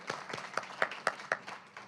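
Light applause from a small audience at a poetry reading, a short, sparse run of distinct claps at low volume, with a few louder hand strikes standing out.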